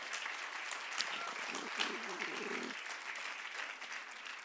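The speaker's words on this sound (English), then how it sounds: "Let's give them a round of applause" A church congregation applauds in a steady, moderately distant wash of clapping that runs throughout, with a voice briefly speaking over it partway through.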